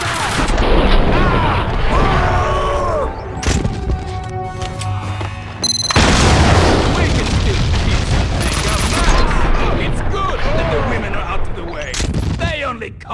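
Max Payne gameplay with gunfire and explosive booms crashing through a busy, loud scene, while shouted voices cut in over the shooting.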